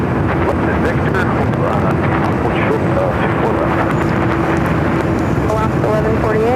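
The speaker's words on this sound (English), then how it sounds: "It's a 787-8 Dreamliner, Air Mexico." An Aeromexico Boeing 787-8 Dreamliner jet at LAX gives a steady, loud broadband roar with a faint sustained engine whine, while radio chatter runs over it.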